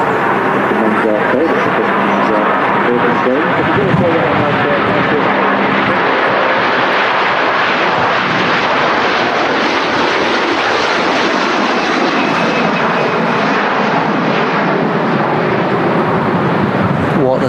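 Airliner taking off from Manchester Airport for New York JFK, a loud, dense, continuous engine roar filling the whole stretch, with people talking over it.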